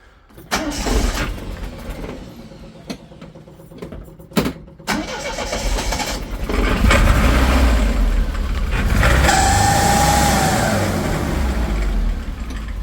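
A 1980 Triumph TR7 engine starts with a few sputtering attempts, then catches and runs loudly with a rough, uneven, crunching idle.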